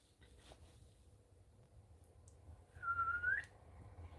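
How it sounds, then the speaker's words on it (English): A person whistles a short, clear tonal call to summon a pet cat, faint and alone in a quiet room with a low background hum. "I can whistle to summon my cat"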